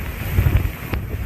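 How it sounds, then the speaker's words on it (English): Sharp wind gusts from Hurricane Harvey buffet the microphone as a loud, low roaring rumble, swelling and easing in waves with no voices over it. "There are some sharp gusts here and some bits of buildings coming off as we speak."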